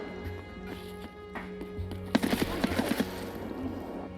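Suppressed gunfire in the shooter game Escape from Tarkov: a run of muffled, closely spaced shots in the back half, over a steady hum of game ambience.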